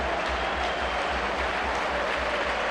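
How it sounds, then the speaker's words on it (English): Football crowd at a Preston North End home Championship match against Sunderland applauding a substitution, a steady, loud wash of clapping and crowd noise filling the stadium throughout. "just listen to the applause that's going to happen here"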